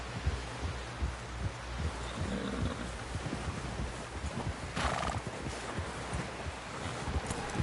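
In Red Dead Redemption 2, a horse plods along with steady clip-clop hoofbeats and breathy snorts under a low rumbling bed, heard fairly faint.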